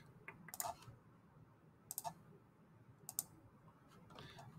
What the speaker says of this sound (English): Now I'm going to click